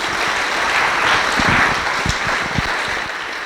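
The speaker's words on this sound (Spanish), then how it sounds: "Un aplauso." A church congregation breaks into applause after a testimony, a dense, steady clapping crowd filling the room and easing off slightly toward the end.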